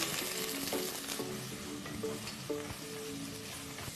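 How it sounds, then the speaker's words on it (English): Thinly sliced onions sautéing with cinnamon, star anise, cardamom, cloves and bay leaves in a pressure cooker, a soft steady sizzle with light stirring clicks, faint and under quiet background music. "Saute the onions till they are golden brown in color."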